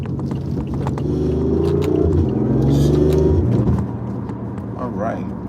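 A car accelerating hard while racing another, engine pitch climbing through a steady rising drone heard from inside the cabin, with someone talking over it.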